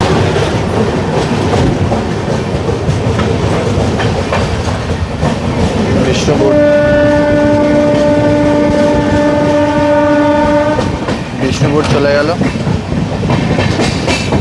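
The Rupasi Bangla Express rumbles along steadily after leaving Bishnupur, with a loud, sustained horn blast partway through and rhythmic wheel clatter throughout; a person speaks briefly.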